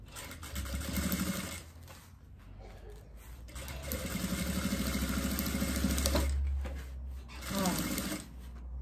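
A sewing machine stitches fabric along a fold for a diaper holder, running in steady motor bursts with short pauses between runs; a voice talks over parts of it.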